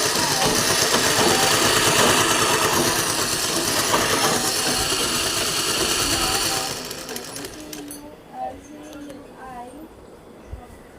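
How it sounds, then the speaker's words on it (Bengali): A domestic sewing machine runs steadily, stitching fabric with a dense mechanical whir for about seven seconds, then stops, leaving faint room noise and brief talk. "দেখো আমি এখান থেকে সেলাই দিচ্ছি"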